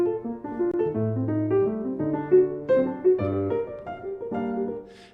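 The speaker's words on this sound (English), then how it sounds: "Because if you just did all first inversions, it would sound like this" Piano plays flowing broken chords all in first inversion in 3/4 time, notes rising and falling in a steady lilting pattern, clear and close with no voices.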